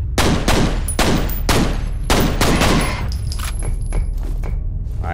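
Assault rifle fire in F.E.A.R. comes in rapid sharp bursts of loud cracking shots, then thins into scattered quieter pops with ringing shell and debris clatter, with no voices.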